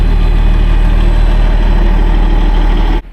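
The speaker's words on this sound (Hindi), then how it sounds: "तो वैसे यहाँ देखो ट्रेन का इंजन कितना तक रहा है यार।" A train engine idles on a cold day, a loud, close, deep rumbling drone held steady for about three seconds before cutting off abruptly; no talk.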